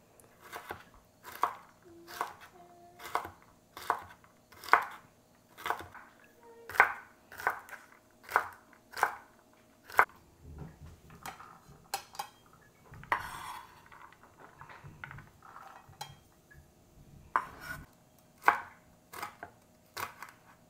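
Knife chopping ingredients into small pieces on a cutting board for Cambodian fried rice, a steady run of sharp, close knocks with a brief pause midway, then chopping resumes; a voice talks faintly in between.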